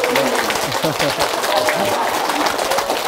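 Audience applause greets a flower-bouquet presentation at a Korean Buddhist Seon meditation event, a steady wash of clapping running throughout beneath a speaking voice.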